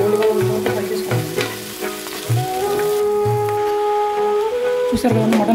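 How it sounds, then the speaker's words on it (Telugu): Mutton pieces fry in a hot kadai alongside onions and whole spices, giving a steady close sizzle with periodic stirring scrapes and clinks, while a voice speaks over the cooking. "చూసారు కదండి, మటన్ ఒక పక్కన ఇలా ఫ్రై అవుతుంది."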